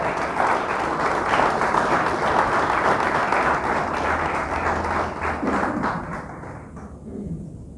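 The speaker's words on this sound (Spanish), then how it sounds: "Le damos un fuerte aplauso a Dios por eso." A church congregation applauding loudly, a dense wash of many hands clapping steadily before tapering off near the end.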